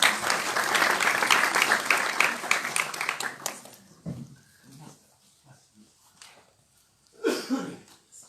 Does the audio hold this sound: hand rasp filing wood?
no